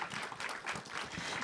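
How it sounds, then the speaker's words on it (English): A live audience applauds panelists at the close of a panel discussion, a steady, dense wash of clapping that fills the whole moment at a moderate distance. "let's give a round of applause to our panelists for a great conversation"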